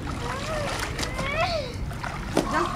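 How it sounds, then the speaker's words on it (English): A child jumps into a backyard pool, splashing water under close-up voices of kids and an adult calling encouragement, with a brief splash burst near the end. "Here, jump for Sissy."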